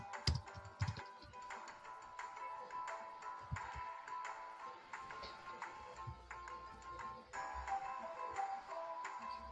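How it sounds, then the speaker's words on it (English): Steady clicking of keys on a computer keyboard as a search word is entered into Google, quiet and close, with irregular taps and short pauses and no talking over it. "you type the word Quizizz"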